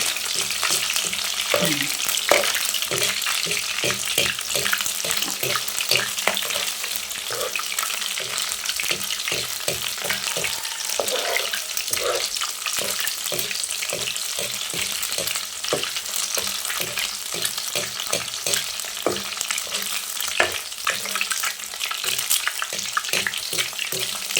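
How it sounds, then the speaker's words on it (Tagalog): Shrimp fritters (ukoy) bound with egg fry in cooking oil in a small wok, giving a steady close sizzle with frequent crackling pops that run unbroken throughout. "Sa mantika na lang natin yan iluto."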